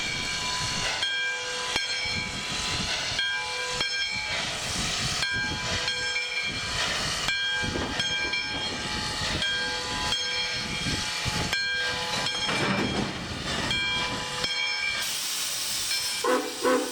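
Nevada Northern Railway steam locomotive Number 93 backs onto a short freight train by a depot in winter blizzard conditions, with continuous loud steam hiss and a steady whistle-like tone throughout, without talk.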